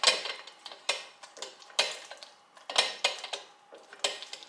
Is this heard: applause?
no